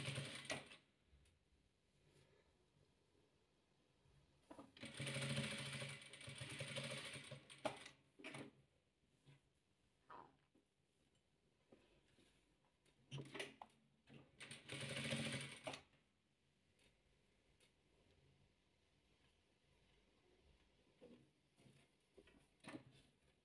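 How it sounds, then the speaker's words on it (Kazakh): Sewing machine stitching the final strip of a hexagon patchwork quilt, running in two loud sustained bursts of fast stitching separated by quieter handling and clicks, with no talking. "Міне құрағымыздың соңғы жолағын тігіп жатырмыз."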